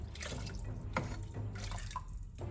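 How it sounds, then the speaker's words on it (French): Tap water pours and splashes steadily into a Thermomix bowl for a shorba soup, a continuous close gurgling stream with small drips, no talking. "je viens rajouter tout l'eau nécessaire à la cuisson, donc je vais remplir le Thermomix jusque là à peu près"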